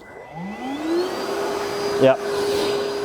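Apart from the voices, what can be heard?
vacuum cleaner running in blower mode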